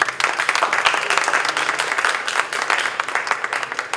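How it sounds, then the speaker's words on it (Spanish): An audience at an academic panel discussion claps for a panelist, a full, dense round of applause that stays loud throughout without a break. "Un fuerte aplauso."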